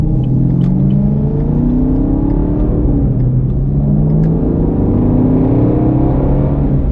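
A sports car engine roars nearby, its pitch rising and falling in waves as the revs climb and ease, a continuous deep rumble with no voices.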